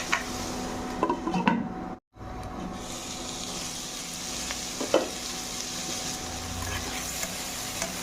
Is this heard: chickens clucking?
no